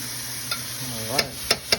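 Garlic cooks in oil in a pan, with a quiet sizzle underneath and three or four sharp utensil clicks against the pan toward the end, close and alone.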